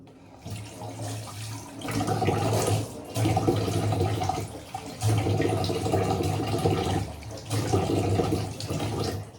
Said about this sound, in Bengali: হয়ে গেলে এবার মুখটা আমি ধুয়ে নেবো